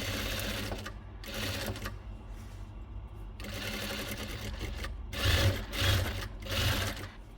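Sewing machine stitching lace onto a bedsheet, running in several bursts of rapid mechanical clatter separated by brief pauses, close and fairly loud with no one speaking.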